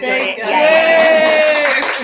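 An audience clapping during a live show, the applause steady under a voice talking over it for the whole stretch.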